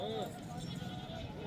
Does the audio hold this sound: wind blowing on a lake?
no